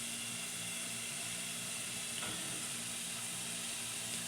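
Minced meat sizzles in a hot pan while making burger filling, a steady close crackling hiss with a faint stir or scrape midway and no talking.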